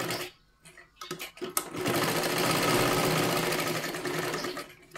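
Sewing machine stitching tucks on a princess-cut blouse, a steady loud mechanical whir that starts in short bursts, then runs continuously for several seconds before slowing near the end.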